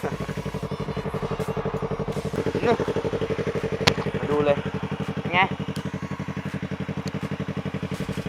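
Motorcycle fitted with a used 16-inch Akrapovic carbon exhaust idles steadily and close by, with a few brief throttle blips rising over the even pulsing beat.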